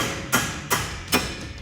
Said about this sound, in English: we're gonna take a hammer